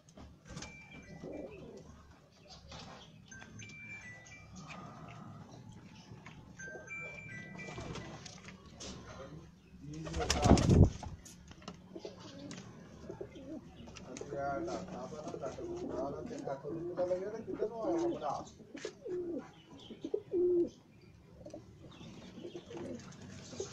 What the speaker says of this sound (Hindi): दिखा रहे हैं जी कबूतर